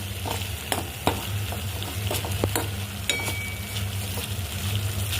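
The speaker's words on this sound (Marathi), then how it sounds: "आता कांदा परतून झाला आपण त्याच्यामध्ये आलं लसूण पेस्ट टाकणार आहोत आणि चांगला कांदा परत परतून घेणार आहोत" Onion with ginger-garlic paste fries in a pan for dum aloo, a constant close sizzle broken by repeated stirring scrapes and clicks of a spoon against metal, over a low hum.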